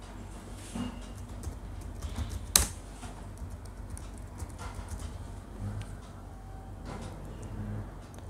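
Sparse, fairly quiet keystrokes on a computer keyboard while searching for a library in the Arduino software, with one sharper click standing out over low background hiss.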